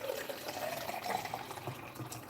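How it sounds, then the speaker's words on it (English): A water jug being filled with cold water, a steady gurgling stream with rising fill tone, close and continuous for a couple of seconds. "filling up the water jug again with crystal cold water"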